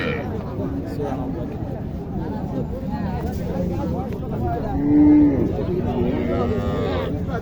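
Sahiwal cows and calves moo at a busy weekly cattle market in Naogaon, Bangladesh, with one long, clear moo rising over constant crowd chatter and nearby talking.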